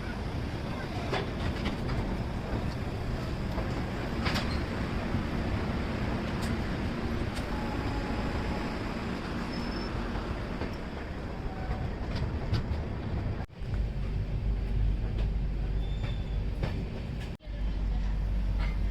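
Garib Rath Express rolling out of Yesvantpur Junction on a modern coach built in January 2023, a steady close rumble of wheels on rails with faint rhythmic clatter throughout and two brief dips in the noise.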